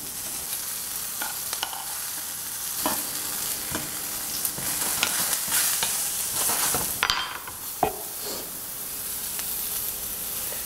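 A fillet browns slowly in a hot pan with garlic and thyme, giving a steady close sizzle broken by occasional scrapes and louder spits as it is moved or turned.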